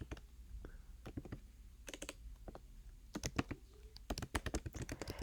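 Close, crisp clicking of a computer keyboard during note-taking, short bursts of keystrokes with gaps between them and a faster flurry toward the end, over a low room hum with no speech.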